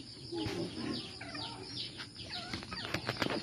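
Basilan-breed chickens clucking in a backyard pen at a family house, several birds calling close by in short overlapping bursts over steady background noise.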